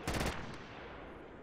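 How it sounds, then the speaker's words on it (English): A short burst of rapid automatic gunfire in Project Reality, several quick shots over a third of a second, then a fading echoing tail with no voices. "Get down, he's firing at you."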